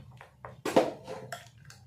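Egg omelette batter whisked in a bowl, a few short, irregular clinks and scrapes of utensil on the bowl with one louder clatter in the middle, close and moderately quiet over a low hum.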